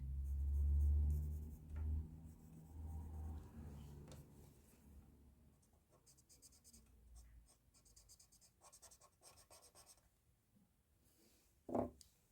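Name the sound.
pencil shading on paper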